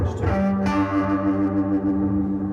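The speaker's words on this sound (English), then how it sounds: "you can turn it up to a faster chorus" An electric violin runs through a fast chorus effect, giving a sustained bowed tone with a swirling, warbling shimmer and some distortion and echo, loud and up close with no talking.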